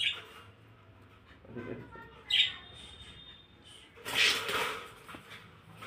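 Pet budgerigars chirping indoors at home: a few short, bright chirps, the clearest about a third of the way in and a louder cluster near the end, over quiet room noise with faint murmuring.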